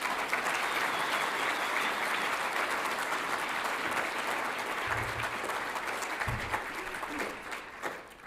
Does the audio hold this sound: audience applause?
yes